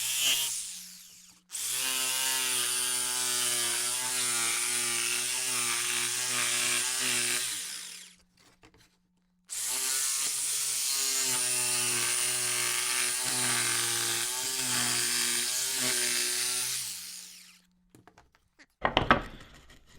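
A power saw cuts through wood pieces for a plant shelf bracket, running in two long loud passes with a pause between them, followed by a brief knock at the end.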